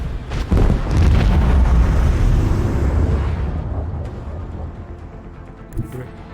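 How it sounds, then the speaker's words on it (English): Macro cannons firing in Warhammer 40k: Rogue Trader, a loud, dense booming barrage that swells and rumbles on for several seconds before slowly fading, with no voices over it. "Macro cannons, open fire."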